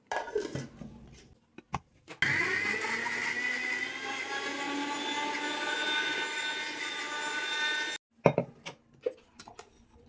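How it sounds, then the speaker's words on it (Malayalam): A mixer grinder blends boiled carrots with a spoon of butter for a rava carrot cake, with a few clinks and handling sounds, then a loud, steady whirring roar for about six seconds before more clattering. "ഇനി വേവിച്ച് വെച്ച ക്യാരറ്റ് മിക്സിയുടെ ജാറിലേക്ക് ഇടുക. അതിലേക്ക് 1 സ്പൂണ് ബട്ടർ ഇട്ട് കൊടുത്ത് നന്നായി അരച്ചെടുക്കുക."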